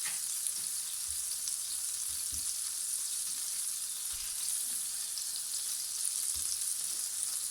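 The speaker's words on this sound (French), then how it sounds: "je vais venir poêler donc mes petits pains" Small soft bread rolls fry in a pan over low heat, seam side down first, with a steady close sizzle and a few soft bumps from the pan, and no one speaking.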